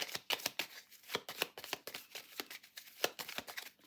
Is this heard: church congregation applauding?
no